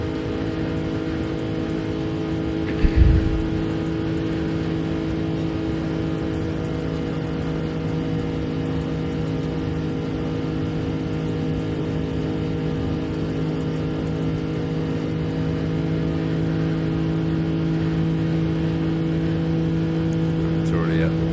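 A race car engine in a Daytona racing game holds a steady high-rev drone throughout, loud and continuous with a strong harmonic whine, plus a brief knock early on, while someone talks over it.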